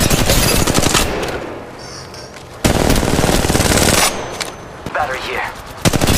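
Rapid automatic gunfire rattles through a video game firefight in loud, sustained bursts with short pauses between them, close and harsh, while a brief radio-style voice line plays over it.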